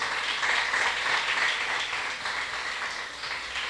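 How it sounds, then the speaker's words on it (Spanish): Congregation in a Spanish-language church service breaking into sustained applause, a dense, even wash of many hands clapping that slowly eases toward the end. "Den un aplauso al Señor Jesucristo."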